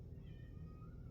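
A house cat meows softly a few times, faint and close in a quiet room.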